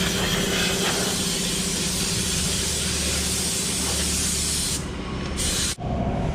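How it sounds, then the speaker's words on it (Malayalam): A pressure washer sprays in a steady, loud, continuous hiss while a Passion Pro motorcycle is washed at a service workshop, the jet cutting out briefly near the end. "വാഷിങ് തുടങ്ങിയിട്ടുണ്ട്"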